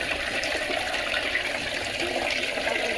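Water poured out in a village home, a steady close gushing splash that runs unbroken throughout, with no voice.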